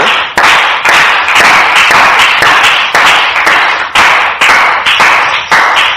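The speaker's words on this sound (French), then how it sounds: "On acclame la parole de Dieu" A church congregation claps loudly in acclamation, sharp unison claps falling in a steady rhythmic beat, about two per second, with no talking over them.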